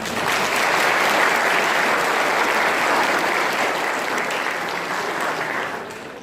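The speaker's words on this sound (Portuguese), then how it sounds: "Por favor, uma salva de palmas." Sustained audience applause at an opening ceremony for an academic week at a technical institute, a dense, steady wash of many hands clapping close and loud for about six seconds before easing slightly.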